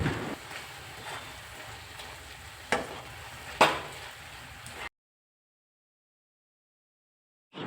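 Chicken roast masala with turmeric is stirred in a pan with a soft, continuous scraping and a few sharper knocks of the spoon against the pan. The sound stops abruptly after about five seconds, leaving silence.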